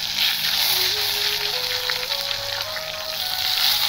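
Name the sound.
eggplants frying in hot oil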